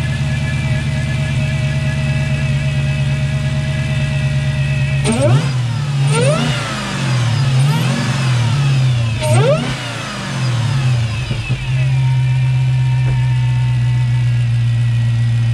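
Chrysler 300 fitted with a Hellcat engine conversion, idling loudly and then revved twice, each rev rising sharply and falling back before the steady idle resumes.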